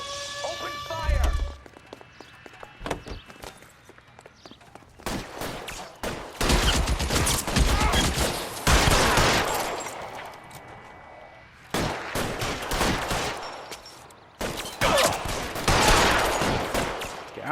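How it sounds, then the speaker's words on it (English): Video game gunfire in L.A. Noire: repeated bursts of sharp shots and rapid volleys, loud and close, in dense clusters separated by short pauses, with voices calling out over the shooting. "Open fire!"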